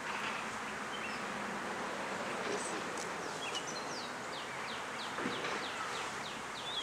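A dense swarm of honey bees buzzes steadily and close, with a brief murmured voice and faint chirps in the background.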